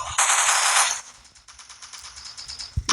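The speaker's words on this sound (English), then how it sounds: "You're shooting at me?" Gunfire in the blocky shooter game Block City Wars: a dense automatic burst followed by a quicker, thinner rattle of shots, close and loud, with no talking.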